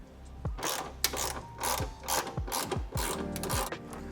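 A ratchet wrench clicks in repeated bursts while tightening the bolts on bed stiffeners in a Toyota Tacoma truck bed, with quick ratcheting strokes and short pauses between them, close up and without speech.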